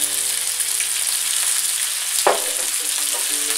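Sliced shallot, halved cherry tomatoes and desalted capers frying in a hot pan, giving a continuous close sizzle with a sharp burst of spitting as more goes in, then a few light utensil clicks.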